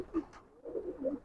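A performer pigeon coos softly up close, a few low, throaty warbling notes in quick succession.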